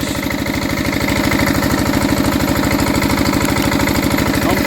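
An old Enfield diesel engine idles steadily after a cold start, its loud, even chugging beat close and continuous throughout with no talk.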